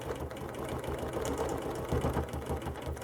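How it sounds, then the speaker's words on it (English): A sewing machine stitches steadily around a quarter-inch quilting ruler while clamshell quilting, a continuous close, even mechanical whir with rapid needle pulses throughout. "Now I can stitch around that ruler"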